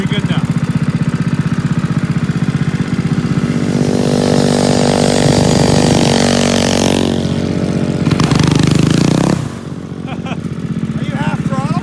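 A warmed-up motorcycle engine runs loud and close on partial throttle, holding a steady rasping drone, rising in pitch as it revs midway, then dropping back to a lower run near the end.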